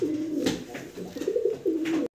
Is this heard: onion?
no